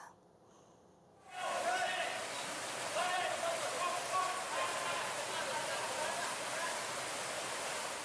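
A strong river current rushes in a dense, steady roar after a brief quieter start, loud and continuous, from a flood scene where a rescue team recovers a body in Bojonegoro.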